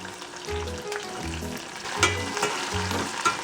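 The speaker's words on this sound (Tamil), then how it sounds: "ஃபஸ்ட்டு வெங்காயமும் பூண்டும் நல்லா வதங்கட்டும்." Sliced onions and garlic fry in a pan with a steady sizzle, while faint scraping and tapping from stirring recurs in a loose rhythm.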